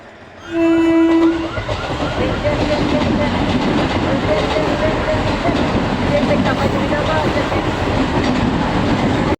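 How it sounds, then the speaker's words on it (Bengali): A train passes through a station platform, opening with a brief loud horn blast before a steady, close rumble and clatter of railcars rolling by continuously. "একটা ট্রেন গেল"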